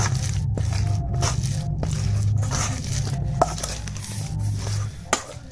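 Semolina dough being mixed by hand with small additions of milk, a soft squishing and scraping rhythm of kneading against a bowl, close and steady, with a few sharper knocks near the end.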